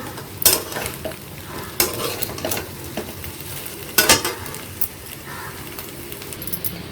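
A spatula scrapes and stirs a potato, ginger and green chilli fry in a pan, with a steady sizzle underneath and several sharp metallic scrapes and clinks at irregular intervals.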